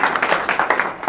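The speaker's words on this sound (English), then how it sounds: "Can we get a round of applause for that?" An audience applauds during a New Jersey interview program, a short burst of brisk, fairly loud clapping in quick uneven pulses, with no voices over it.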